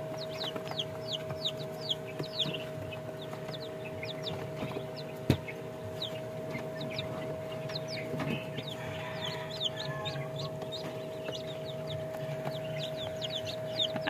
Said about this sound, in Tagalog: papalakasin pa natin itong mga sisiw dito.